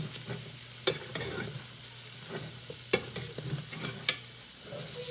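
Egg and sardines fry in a pan with a steady low sizzle, broken by a few sharp clinks and scrapes of a utensil against the pan; nobody speaks.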